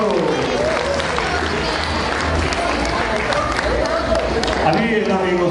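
Audience applause at an evening of classical and modern dance in Delchevo, a dense, steady wash of clapping and crowd noise that fills the whole stretch, with music and voices mixed underneath.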